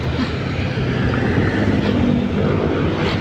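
A motorcycle engine drones steadily and loudly up close at night, a continuous rough rumble with wind-like roar throughout.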